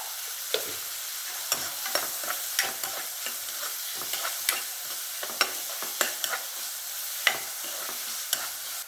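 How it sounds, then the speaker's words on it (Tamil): Onions with salt fry in oil under a soft steady sizzle, broken by regular sharp scrapes and clacks of a spoon stirring the pan, with no voices. "வெங்காயம் நல்லா வதங்கிடுச்சு"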